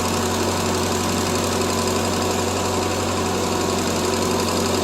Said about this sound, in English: He fires right over. A little on the high side idle.